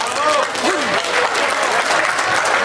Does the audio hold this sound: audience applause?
yes